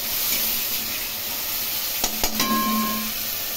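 A bay leaf and a paste of cumin, dried red chilli, green chilli, garlic, onion and ginger sizzle steadily in a hot pan, a loud continuous hiss broken by a few brief clinks of utensils near the end.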